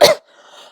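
A single short, sharp cough, close and fairly loud, followed by quiet breathing and a faint voice at the very end.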